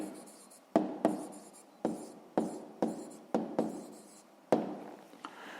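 A hand writes out a math answer, likely pen or chalk, about eight sharp taps and strokes spaced across a few seconds, quiet and close with no voice.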